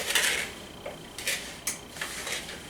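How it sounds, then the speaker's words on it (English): Spoon folding a strawberry and crumbled feta salad in a bowl, several soft scraping and clinking strokes against the dish, close and moderately loud, with no talking. "So I'm just going to kind of come in with my spoon and fold it."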